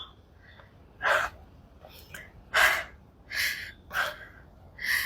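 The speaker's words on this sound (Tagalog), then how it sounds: "Hingal na hingal na nga ako eh." Heavy, audible panting from a tired climber on the way up to Guia Lighthouse in Macau, five loud breathy gasps spaced a second or so apart, close to the mic, with no speech.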